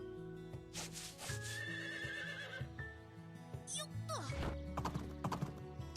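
A horse whinnies and its hooves clip-clop in a video game farm, Doraemon Story of Seasons, with game music and effects layered underneath.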